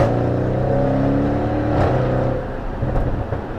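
Audi RS6 tuned to 730 bhp accelerating on a downhill mountain road with hairpin bends, a loud, steady engine note from close inside the car that rises and then eases off toward the end.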